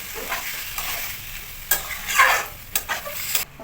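Green chili and banana stem frying with spices in a pan for a Bengali thor ghonto, loud close sizzling broken by several scraping stir strokes of a spatula.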